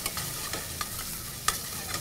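Potatoes sizzle and fry in a pan while being stirred and coated as they caramelize, a steady close frying hiss broken by a few sharp scraping stirs, with no talking.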